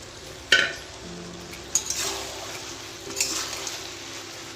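Chicken pieces dropped into soy-based chilli sauce in a hot pan, landing with a sharp splash and clatter, then a steady sizzle with occasional stirring scrapes and knocks.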